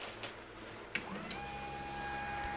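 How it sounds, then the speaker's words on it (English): A 24-volt electric motor run at 25 volts drives a pump, giving a steady, even hum with a constant whine that settles in after a couple of clicks. The sound is fairly quiet and continuous, with no talk. "So the motor's running."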